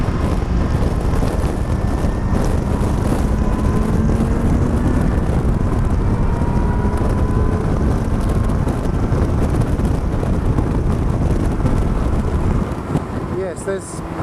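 Wind buffets hard through the open cockpit of a Lotus 3-Eleven at speed on a race track, a loud, constant roar with a faint engine drone beneath it, steady throughout.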